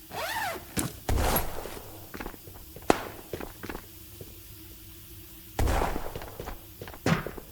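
An enemy player's footsteps in a multiplayer shooter on the Silo map, several soft scuffing steps and thuds spread irregularly, moderately close, with sparse ambient game noise.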